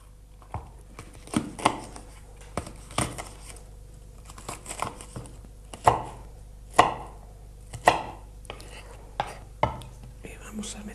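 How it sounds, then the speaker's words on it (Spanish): A green pepper chopped with a knife on a board, giving a dozen or so sharp, close knocks at an irregular pace, with soft crinkling and faint whispery sounds between cuts. "Vamos a coger un pimiento verde."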